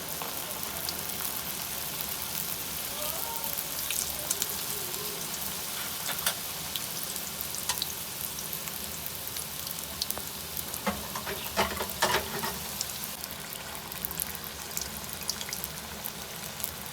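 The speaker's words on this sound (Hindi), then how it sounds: "ज़्यादा तेज़ ऑयल में नहीं तलेंगे इसको" Chicken vegetable samosas fry in moderately hot oil, a steady close hiss and fine bubbling crackle running throughout, with a few sharper pops and stirring clinks along the way.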